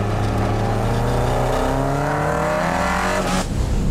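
A Mercedes-AMG performance car accelerates hard, its engine note climbing steadily through the revs, loud and close for about four seconds before a brief shift near the end.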